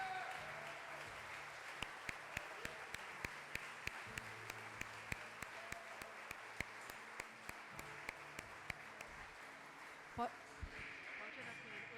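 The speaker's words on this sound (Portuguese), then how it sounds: "Vamos dar uma salva de palmas ao Senhor." A church congregation applauds steadily for several seconds, with scattered sharp claps standing out, while a voice talks over it.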